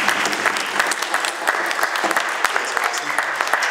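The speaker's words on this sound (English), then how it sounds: "give a round of applause for Brian, Cap, and Stouffville Church" Audience clapping inside Stouffville United Church after a guitar performance, a dense, sustained round of applause from a crowd, close and loud throughout with faint voices mixed in.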